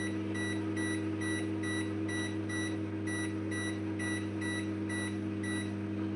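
A microwave oven hums steadily while its timer is set, a regular series of short, high beeps repeating about every half second, close by.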